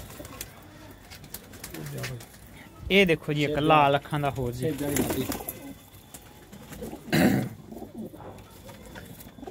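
Pigeons, including a red-eyed bird and a Chinese hen pigeon at a breed sale, coo in bursts of throaty rolling calls that mix with someone speaking nearby.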